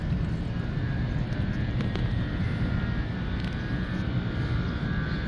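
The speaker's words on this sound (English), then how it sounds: "I can feel the blower is running." The blower on a rooftop Trane package air-conditioning unit runs with a constant, loud, broadband airy roar that holds steady outdoors for the whole stretch.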